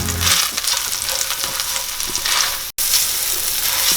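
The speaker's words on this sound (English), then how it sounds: "My ginger and garlic has been cooking." Ginger and garlic paste sizzles steadily in a hot pan for butter chicken, a dense, crackling frying hiss with light stirring scrapes and one brief cut to silence.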